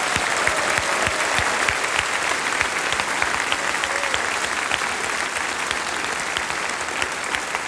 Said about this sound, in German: ein herzlicher Applaus unseren Lechnerburm